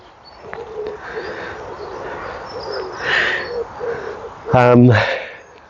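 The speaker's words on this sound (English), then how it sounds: "Hello, Mr. and Mrs. Crow." A pair of crows calls outdoors, with faint, scattered cries over a steady hiss, then one loud, rasping caw close by near the end.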